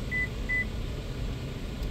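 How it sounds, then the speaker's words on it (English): Two short electronic beeps from a 2024 Toyota Sienna during key programming, evenly spaced and moderately clear over a steady low hum of background noise, with no one speaking. "Okay, we got the one beep."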